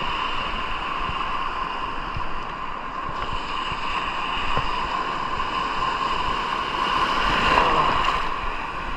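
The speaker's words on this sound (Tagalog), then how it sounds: "Malaki ng alon guys." Big ocean waves at high tide roll and wash along the shore in a continuous rumbling surf, with a steady tonal hum over the water and no voices.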